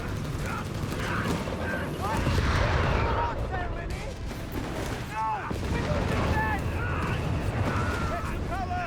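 Artillery fire and battle mechanisms in Company of Heroes 3, with repeated booming impacts, clanking machinery and chirping unit sounds over a dense war soundscape. A voice talks throughout.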